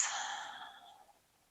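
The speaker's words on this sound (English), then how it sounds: "I'm just gonna take several breaths." A long, slow exhale during a seated chair yoga session, a soft breathy sigh that starts fullest and fades out over about a second and a half, close and alone.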